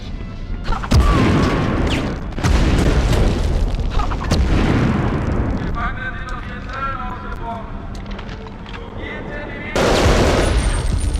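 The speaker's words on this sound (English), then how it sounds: "Bonked him with a grenade." A grenade explodes in a Medal of Honor video game, sending out a loud, heavy boom with crackling gunfire bursts around it and a clanging stretch in the middle.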